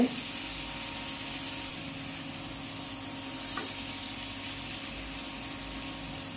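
Onions fry with ginger garlic paste for an egg curry, holding a loud, continuous sizzle close by with light stirring throughout and no talk.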